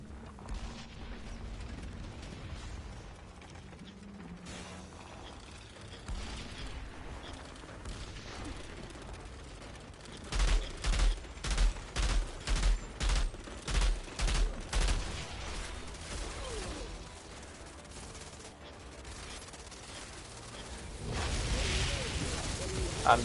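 Gunfire from Outriders weapons, starting mid-clip as a steady string of about ten evenly spaced loud shots over game sound, with quieter ambient noise before and after.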